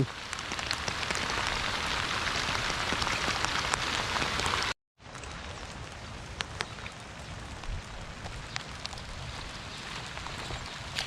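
Heavy rain hammers down in a continuous hiss, cut off by a brief silent gap before the downpour resumes just as strongly.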